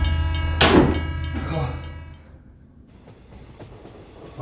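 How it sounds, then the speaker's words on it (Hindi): A Mumbai local train rumbles and rattles past close by, loud at first and then easing into a steadier, quieter clatter over a few seconds. "बंबई की लोकल ट्रेनें साहब,"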